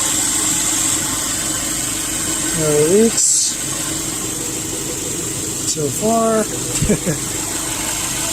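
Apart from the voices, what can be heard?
2010 Subaru Impreza replacement engine idling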